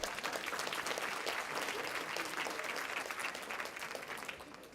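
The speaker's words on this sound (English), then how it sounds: "Can we give them another round of applause?" Audience applause for a band at a university alumni celebration: dense, steady clapping from a sizable crowd, holding loud throughout and easing slightly at the end.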